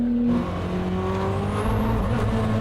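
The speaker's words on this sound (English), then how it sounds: "It's crazy how fast the response is, even for a turbocharged car. The Jesko is too insane." A turbocharged Koenigsegg Jesko drives on a race track, its engine holding a loud, steady drone with a rising whine near the end.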